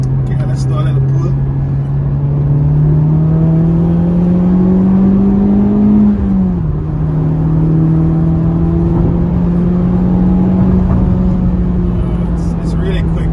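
A 700+hp Mitsubishi Evo X engine drones and climbs in pitch under hard acceleration, drops sharply at a gear shift, then pulls again, loud and close from inside the car.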